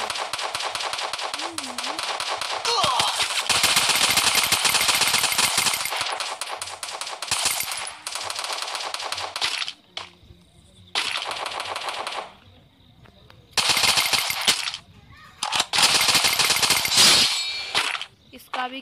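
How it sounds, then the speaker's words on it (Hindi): Silenced gunfire from the Free Fire video game, bursts of rapid, sharp clicking shots in several long strings separated by short pauses, loud and close. "यहाँ पे साइलेंसर मिल चुका है तो गाइस हम यहाँ पे गोली चलाएंगे"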